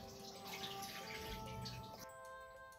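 Running water splashes at a bathroom sink while someone washes their face, a faint close gush with small splashes that cut off near the end.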